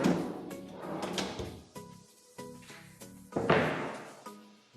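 Wooden cabinet drawers in a new townhouse are slid open and shut repeatedly, giving a series of close rumbling slides ending in solid thunks, with a ringing resonance between some closes.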